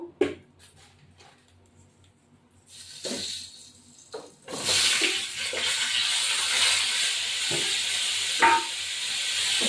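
Cauliflower pieces dropped into hot oil in a pan: a few quiet clinks give way to a sudden loud burst of sizzling that then carries on as a steady, vigorous frying hiss with occasional pops.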